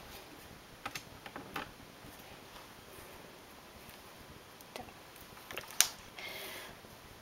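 A knitting machine carriage is pushed back across the needles while a five-petal flower trim is knitted. Faint, sparse clicks and creaks lead to a sharper click and a short sliding rasp near the end, with no talk.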